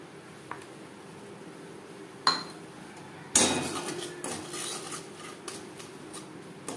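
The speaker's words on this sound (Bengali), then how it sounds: "চিনেবাদাম 1-2 মিনিট নাড়াচাড়া করে নেব" Roasted peanuts being stirred in a lightly oiled wok, giving scattered metallic scrapes and clinks of a spatula against the pan, with two sharper knocks followed by a steady rustling stir.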